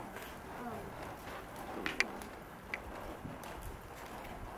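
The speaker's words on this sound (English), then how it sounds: "I love to get on my horse and just let him walk." A horse walking at an easy pace on a riding outing, its hooves giving a few faint, irregular clip-clops under steady outdoor background noise.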